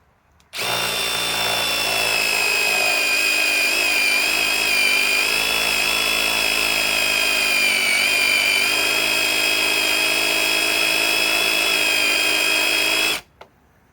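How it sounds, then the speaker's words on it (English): Metabo HPT impact driver fastening into 1/8 inch sheet metal: one long, loud, continuous high-pitched whine with rapid hammering texture, holding steady for about thirteen seconds before stopping abruptly, with no talking. "I'm not too much into drilling into, fastening into sheet metal"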